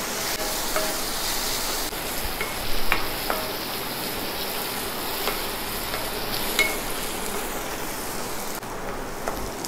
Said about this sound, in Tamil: ப்ரௌனிஷ் கலர் வர வரையும் நல்லா வதக்கிடுங்க